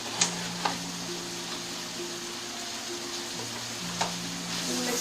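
Flour sizzles softly in a hot pan while being stirred for bologna gravy. A steady frying hiss runs throughout, broken by a few sharp clicks of the spoon against the pan.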